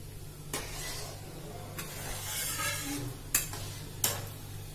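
Ghee-enriched khichuri being stirred in a pan, a soft continuous scraping with faint sizzle and a few sharp utensil clinks against the pan, close and fairly quiet, with no talking.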